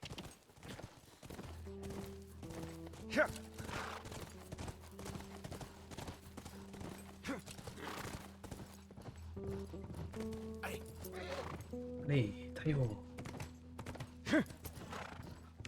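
Rhythmic hoofbeats of a horse clip-clopping along with occasional whinnies in the video game The Last of Us, set against steady game music, while a person talks briefly over it.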